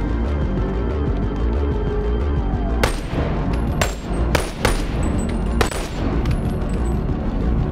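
Five sharp, loud gunshots in Boneworks VR shoot off locks, spaced irregularly over a few seconds above a steady background hum.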